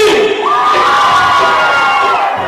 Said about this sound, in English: I said, Graham, scream